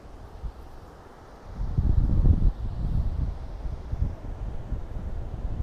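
Strong wind buffets and rumbles against the microphone during a DJI Mavic Air drone flight, swelling into louder gusts after a calmer start.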